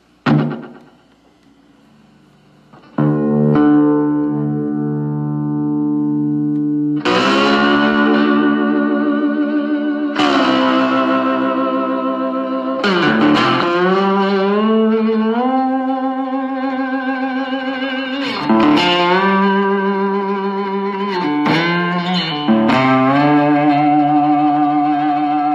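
Electric guitar played with a slide through effects, giving loud, sustained gliding notes with distortion and echo, rising and falling in pitch across several phrases after a short opening thump, with no talking.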